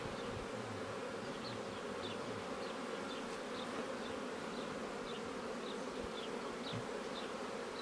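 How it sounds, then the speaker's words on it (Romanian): Honey bees buzzing close by on a hive frame, in a steady, droning hum, with individual bees whining past now and then; no voices. "am găsit un ghem de albină pe o ramă"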